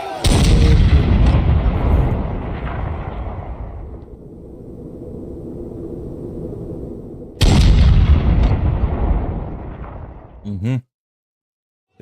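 Heavy gunfire erupts after an order to shoot, with two loud, sustained, booming volleys separated by a lower rumbling stretch, then a sudden cut to silence.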